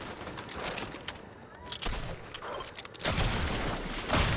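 Shooter video game gunfire: dense, rapid bursts and loud cracks of automatic weapons, with overlapping volleys growing heavier toward the end, close and sustained.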